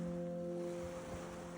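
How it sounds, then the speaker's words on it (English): Ocean waves wash steadily against an island shore, a soft, continuous surf hiss with a faint tonal hum beneath it. "The thing that brought us to the island is actually the ocean."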